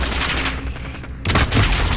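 Rapid gunfire rattles in a Call of Duty match as dense, loud bursts. The shots thin out briefly, then a heavier volley hits after the midpoint, with no talking.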